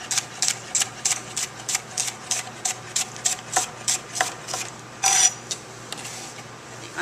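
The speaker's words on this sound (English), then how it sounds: "So I like the bias cut. So we're going to slice this on the bias." A knife cuts green onion on the bias against a board, about fifteen crisp, evenly paced chops close by, with a brief louder clatter near the end and no talking.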